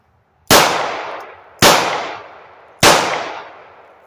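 Three loud, sharp gunshots from a Joe Friday Special firearm ring out about a second apart at an outdoor shooting range, each crack trailing off in a long decaying echo.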